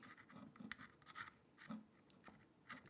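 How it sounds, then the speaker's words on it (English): Typing on a regular computer keyboard produces irregular clusters of soft clicks and taps, quiet and close, with no talking. "So this is how loud my regular keyboard sounds like."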